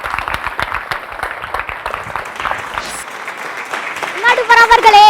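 Applause from the audience at a Tamil speech competition, a dense run of clapping in a hall, with a voice speaking over it toward the end.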